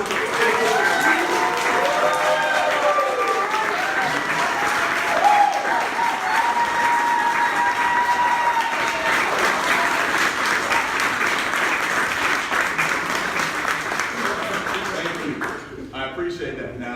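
A crowd at a Charlotte City Council campaign announcement breaking into sustained loud applause and cheers with whoops, continuous for most of the stretch before fading at the end.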